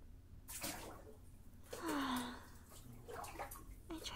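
Warm bubble bathwater sloshes and splashes softly as someone moves in the tub, with faint close swishes and a brief vocal sound in between.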